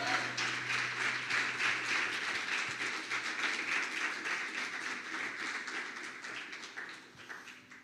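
A church congregation applauds in a steady, dense wash of many hands clapping at moderate distance, holding for several seconds before thinning out toward the end.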